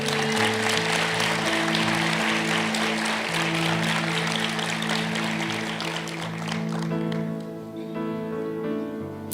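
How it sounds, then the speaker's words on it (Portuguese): Church congregation applauding during a youth service, a dense sustained wash of clapping that fills the room, with a steady low tone running beneath and the applause thinning toward the end. "Dê um aplauso para Jesus."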